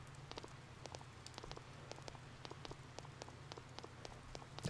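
Rainfall in the video game Persona 4, a soft, steady patter of drops tapping on surfaces over a low constant hum, quiet and continuous.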